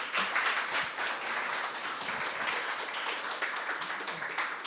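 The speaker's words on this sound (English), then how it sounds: "Please, big applause for Jesse." Audience applause for a presenter at a GraphQL meetup in Wroclaw: steady, dense clapping from a roomful of people, held at an even level for several seconds without talk over it.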